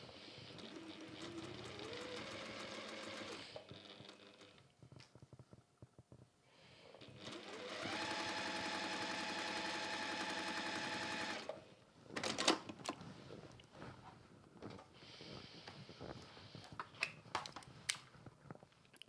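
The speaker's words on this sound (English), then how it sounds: "And to the sewing machine we go." A sewing machine runs in steady bursts of rapid stitching, stopping and starting, with quieter pauses and small handling clicks between runs.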